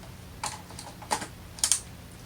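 Keys clack on the detachable keyboard of a hybrid tablet, in three quick, light bursts of typing separated by short pauses in a quiet room.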